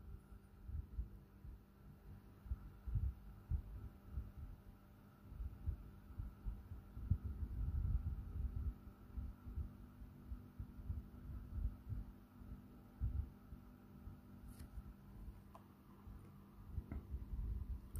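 A 12V three-wire CPU cooling fan runs close by, giving a steady low hum with soft, uneven throbbing pulses throughout and no talking.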